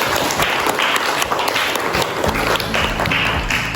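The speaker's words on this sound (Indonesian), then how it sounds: "Oke, tepuk tangan, terima kasih." Applause from a class of students at the end of a lesson, steady dense clapping filling the whole stretch with no talk over it.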